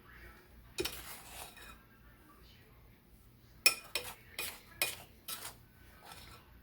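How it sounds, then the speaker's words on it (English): A spoon drags through cake batter with a cinnamon mix. Quiet scraping comes first, then a cluster of sharp metallic clinks and knocks against the pan or bowl, close and fairly soft. "You take the spoon and you drag it like this"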